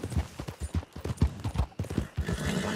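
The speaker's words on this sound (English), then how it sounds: "you can hear the horses" Horses clip-clop in the RedM video game, a brisk run of distinct hoof thuds in an uneven rhythm, fairly close and clear, with no talk over them.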